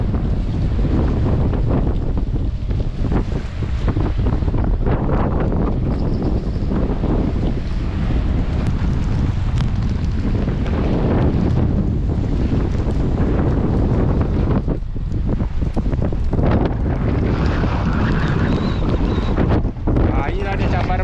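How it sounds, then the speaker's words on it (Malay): Strong wind roars into the microphone aboard a fishing boat on rough sea off Port Klang, with waves and rain in the gusting noise and someone talking over it. "datanglah hujan dengan agak angin agak kencang juga. Laut agak bergelora"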